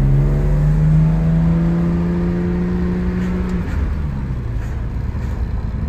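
A 1972 BMW Bavaria straight-six accelerating hard in second gear, its engine note climbing steadily for several seconds before easing off, loud and close with no talk.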